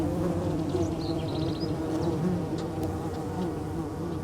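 Dense, continuous buzzing of many Copolicana bees close by around their tiny colony in the Atacama, a low droning hum with higher insect whines passing through.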